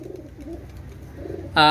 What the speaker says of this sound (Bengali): পাকিস্তানি রামপুরি কবুতর আপনারা দেখেন অনেক সুন্দর একটা পেয়ার